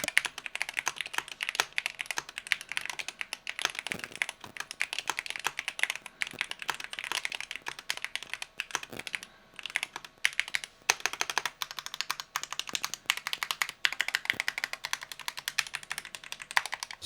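Rapid, steady typing on a Drunkdeer A75 Pro keyboard, dense close-up key clatter running continuously with brief pauses and no talking.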